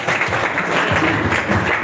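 Summit audience at a young pharmacists' zonal gathering breaks into steady, loud applause, a dense continuous wash of clapping with no pauses.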